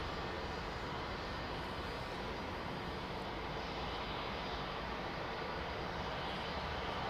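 A large aircraft rolls along the runway at London Heathrow Airport with a constant, dense engine roar that holds steady for several seconds, heard from a distance with no voices.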